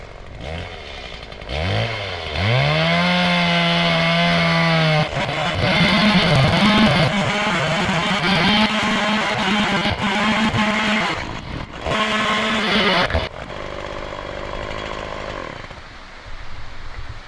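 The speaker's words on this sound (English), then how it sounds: "So the chainsaw I've got is the Stihl MS170" A Stihl MS170 chainsaw revs up and bites into a heavy log in rural Portugal, close and loud, its engine note dropping under load during the cut, then briefly idling before cutting again.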